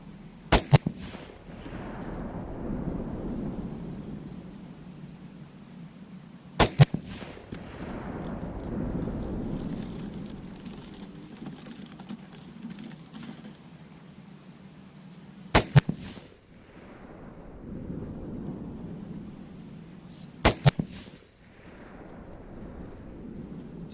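Four sharp 6.5 Grendel rifle shots ring out at night, spaced several seconds apart. Each loud crack is followed by a long, rolling echo that slowly fades.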